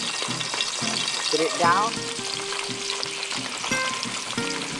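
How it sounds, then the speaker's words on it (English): Onions fry in oil in a pan, producing a loud, continuous sizzle with stirring and clatter, while a person speaks briefly over it. "Let the oil and the onion cooperate until the onion is translucent."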